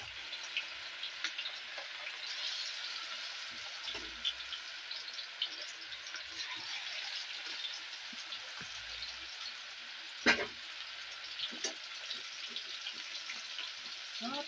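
Meat fries in hot oil in a pan with a continuous bright sizzle, scattered small crackles and one sharper pop partway through.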